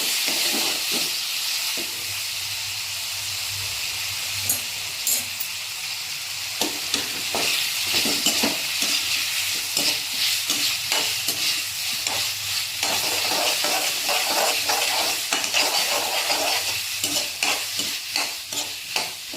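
Steady sizzling of potatoes sautéing in a pan, with scraping and stirring clatter throughout, close and fairly loud, no voices.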